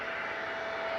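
A KLM airliner on departure from Manchester Airport bound for Amsterdam roars with a steady, broad engine rush and a faint high whine, heard from a distance outdoors without a break.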